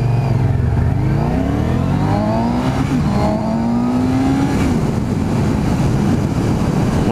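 Suzuki GSX-S 750 motorcycle engine revving loudly while riding, its pitch sweeping up and down through gear changes over steady wind and road roar, with no talk.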